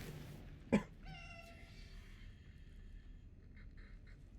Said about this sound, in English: Kitty, can we see the kitty?